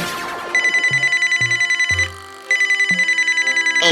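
A telephone rings with a loud, rapid bell trill in two bursts separated by a short pause, over a few plucked musical notes in an animated ghost story.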